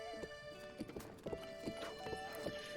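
Rhythmic clip-clop of horse hooves in The Legend of Zelda: Breath of the Wild, quick regular footfalls close by with a faint whinny, over a soft game music bed.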